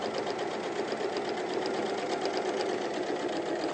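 A sewing machine runs steadily, stitching fabric down to a pressed fold while making Easter-themed projects, its rapid even whir close and continuous with no pauses.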